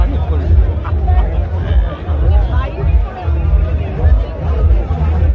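Dense crowd hubbub at a marathon in traffic-jammed streets: many overlapping voices chatter continuously, loud and close, forming a steady babble throughout.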